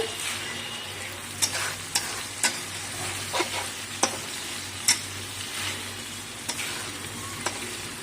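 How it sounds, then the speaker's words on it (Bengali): Milk cream sizzles in a wok while being cooked down into ghee, a steady close frying crackle broken by sharp periodic clicks of a spatula scraping and stirring. "মানে ঘিটা বেরোচ্ছে এবারে আস্তে আস্তে।"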